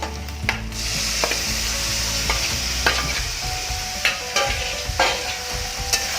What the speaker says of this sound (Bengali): এবার এর মধ্যে দিয়ে দেবো আমি ম্যারিনেট করা চিকেনটা।